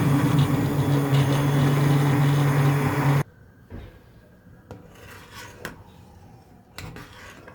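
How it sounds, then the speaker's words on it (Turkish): A blender purees lentil and vegetable soup, a loud, steady whirring grind for about three seconds that cuts off abruptly, followed by quiet kitchen clatter and faint knocks. "Ve blender ile çekiyorum."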